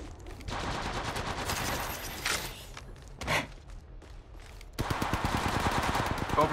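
Rapid automatic gunfire from the mobile battle-royale game Apex Legends Mobile rattles in dense bursts, broken by a short pause with a few single shots before another long burst.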